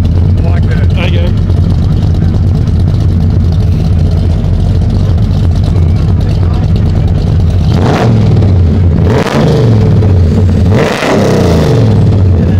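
A classic Holden Torana engine at a car display idles with a deep, loud rumble, then is revved sharply three times near the end, with people talking nearby.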